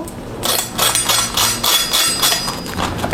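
Crispy fried tempe crunches loudly and close in a run of dense, crackling bites or breaks, one after another with no talking.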